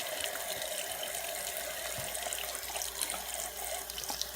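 Water runs steadily from a sink tap as makeup brushes are washed, a continuous close splashing stream with no talk.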